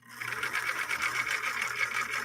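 A 1958 Husqvarna Viking Type 21 sewing machine running with its mechanics binding, a close, steady rapid whirring stitch rhythm that starts abruptly and carries on alone.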